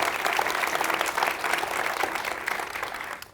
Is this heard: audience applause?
yes